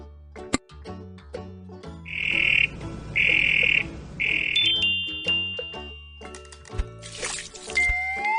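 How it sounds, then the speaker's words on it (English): A toad croaking at night in an outdoor nature setting: three evenly spaced, buzzy croaks stand out among scattered clicks and soft night sounds. "Toads are nocturnal, so they like to be out at nighttime."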